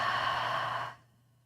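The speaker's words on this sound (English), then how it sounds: "Together we breathe in through the nose. Open mouth, exhale, let everything go." A single open-mouth exhale during a yoga breathing exercise, a steady breathy rush lasting about a second before fading to quiet, close and alone with no talk.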